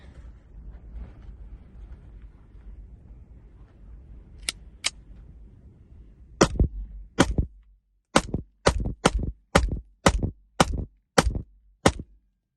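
A SCCY CPX-2 pistol fires Winchester 115 grain rounds, about ten sharp, loud shots near the microphone in a steady, evenly spaced string after a couple of earlier clicks and a quiet stretch.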